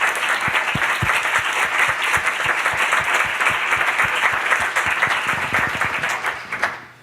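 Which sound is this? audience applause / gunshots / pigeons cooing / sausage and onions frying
audience applause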